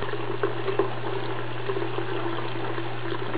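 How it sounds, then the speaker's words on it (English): A rag and a little water scrub out a rabbit's water bottle, giving a soft, steady wet swishing and sloshing with a few small knocks, faint and close, with no talking. "Then I take a rag and a little bit of water and just scrub it out."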